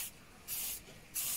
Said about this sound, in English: give it a bit of a spray all around